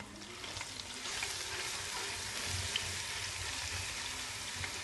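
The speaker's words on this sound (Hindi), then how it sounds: "इसमें मैंने अदरक लहसुन का पेस्ट 2 टेबल स्पून डाला है। अब इसको मैं फ्राई करूँगी" Ginger garlic paste fries in about half a cup of ghee, giving a soft, steady crackling sizzle with faint scattered pops, heard quietly and continuously at close range.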